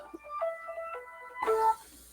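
A mobile phone ringtone going off during a live stream, a short melodic run of bright electronic notes stepping up and down, moderately loud, ending in a brief louder flourish.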